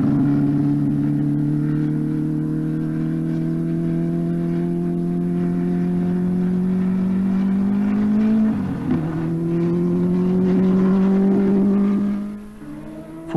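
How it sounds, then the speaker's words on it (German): A 1984 Zakspeed 841 Formula One car on its first test laps at the Nürburgring gives a sustained engine drone that climbs steadily in pitch, dips with a brief shift, then rises again before fading at the end. "Vorsichtig fährt Manfred Winkelhock die ersten Runden"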